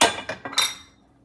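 Metal spoon clinks sharply against a pan while peanuts and sesame are stirred into jaggery, three or four quick ringing knocks fading into quiet.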